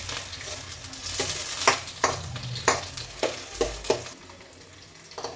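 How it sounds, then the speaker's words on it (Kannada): Curry leaves hit hot oil in a pan, giving a soft sizzle under repeated stirring scrapes and light clinks of a utensil against the pan. "ಅದಾದಮೇಲೆ ಇದು ಕರ್ಬೇವು ಹಾಕ್ತೀನಿ"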